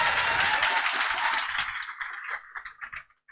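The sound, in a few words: audience applauding to welcome a guest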